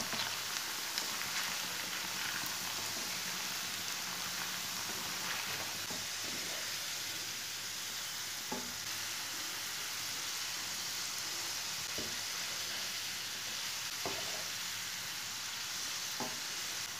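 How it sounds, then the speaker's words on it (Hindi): Potato cubes fry in hot oil with a continuous loud sizzle and crackle, broken by a few soft clicks of stirring. "आलू हमारे फ्राई हो चुके हैं"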